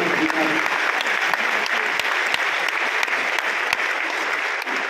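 Steady, dense applause from a large audience at a Hindi comedy poetry gathering in Kolkata's Kala Mandir hall, continuous clapping filling the room throughout with a few sharper claps standing out.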